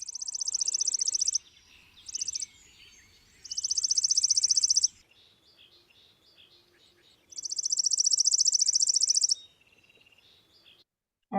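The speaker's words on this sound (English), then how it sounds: "the last one is a chipping sparrow" A chipping sparrow sings its rapid, dry trill, too fast to count, in several bursts of one to two seconds separated by quiet pauses, clear and fairly close against a soft background.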